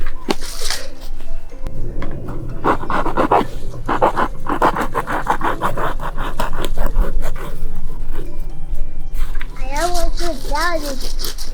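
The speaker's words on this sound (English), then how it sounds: "So now I'm gonna come here and I'm just gonna cut up the pot." A plastic plant pot is cut apart with a tool during the planting of a Medjool date tree. The sound is a stretch of rhythmic scraping and snipping under close talk, and near the end a dog pants.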